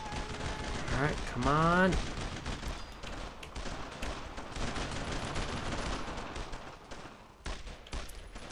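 Rapid WWII rifle and machine-gun fire crackles in bursts during a Brothers in Arms: Road to Hill 30 battle, with someone speaking briefly over the shooting.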